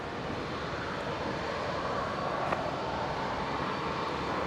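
A C-130J Hercules military transport aircraft arrives at Brisbane airport as a steady, broadband engine roar. It holds constant and fairly loud the whole time, with no voices.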